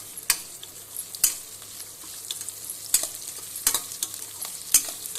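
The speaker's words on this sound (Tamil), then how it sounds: "வெங்காயத்தை இதில் போட்டு நல்லா வதக்கிக்கணும்" Onions sautéed in a pan for pepper jeera rice, a low steady sizzle broken by sharp spatula scrapes and clicks every second or so, close and alone without any speech.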